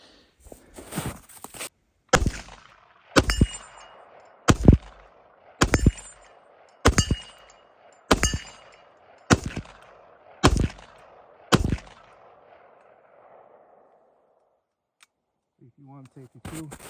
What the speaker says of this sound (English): Let's get shooting this gun.